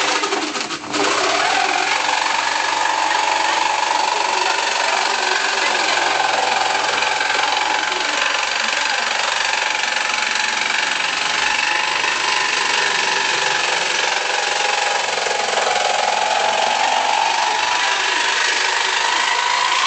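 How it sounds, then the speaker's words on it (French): Continuous buzzing motor of a jigsaw cutting cardboard close by, its pitch wavering slightly as it cuts for about twenty seconds without pause. "va couper avec sa scie sauteuse"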